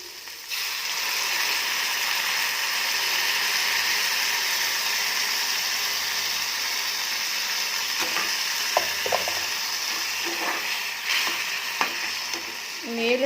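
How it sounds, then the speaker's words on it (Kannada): Tamarind juice goes into a sizzling South Indian tempering and is stirred. A steady, loud frying hiss fills the whole clip, and light clinks and scrapes from the stirring spoon come in near the end. "ಹುಣಸೆ ರಸ ಸ್ವಲ್ಪ ಹಾಕ್ಕೊಳ್ಳಿ."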